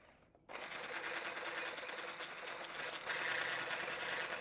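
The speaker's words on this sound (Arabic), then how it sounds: "بعد كده بقى هنضرب البيض مع اللبن" Electric hand mixer beating eggs with milk for crepe batter, switching on after half a second into a steady close whirring drone that grows slightly louder near the end.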